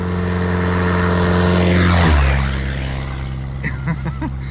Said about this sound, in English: Oh, and maybe one airplane.